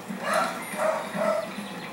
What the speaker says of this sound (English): What's up with the dog barking too?